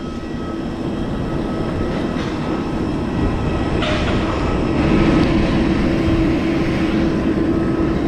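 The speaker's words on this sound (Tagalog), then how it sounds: "yung aeroplano namin papuntang Cebu, Mactan Cebu" A steady, loud engine roar rises from a small Cebu Pacific airplane at an airport in the Philippines, bound for Mactan Cebu, holding a constant drone throughout with no talking.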